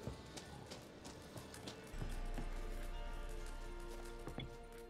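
A horse's hooves clip-clop in The Witcher 3, a steady rhythm of close, moderately loud hoofbeats over a low rumbling ambience that thickens halfway through, with a few sharper knocks near the end.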